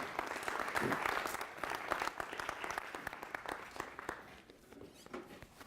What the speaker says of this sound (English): Give him a nice round of applause, everybody.